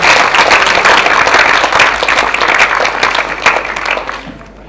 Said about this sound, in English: Will you please give a round of applause for the real Jon Snow?